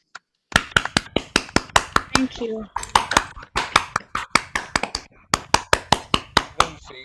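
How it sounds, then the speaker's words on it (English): An audience at an evening event celebrating a filmmaker gives a round of applause of sharp, distinct claps that keep up a steady, fairly even rhythm. A voice briefly speaks partway through. "I think we all need to give one more huge round of applause"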